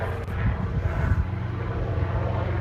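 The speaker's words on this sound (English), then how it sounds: "here comes a chopper" A helicopter flies overhead at an outdoor campsite, a loud, steady low rumble with a slightly throbbing texture that swells briefly and then holds.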